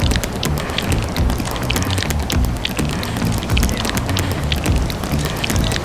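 Steady rain falls in a Grand Theft Auto game, a dense, loud hiss of drops with patter on surfaces, continuous across the whole stretch with no talking.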